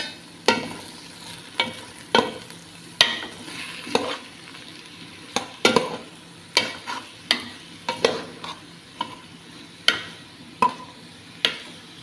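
Egg cooks with ampalaya (bitter gourd) in a hot pan, a steady low sizzle punctuated by sharp, irregular clacks of a spatula against the pan, close and alone.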